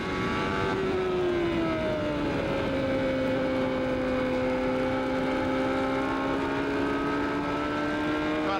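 A 1994 CART IndyCar engine at Nazareth drones continuously at high revs, its pitch dipping and then holding steady as the car runs on track, loud and unbroken, with faint other cars underneath.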